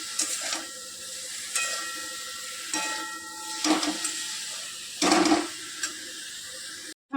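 Banana flower and potato curry stirred in a pan, with a steady frying sizzle and several louder scraping strokes of the spoon against the pan, close by and with no talking.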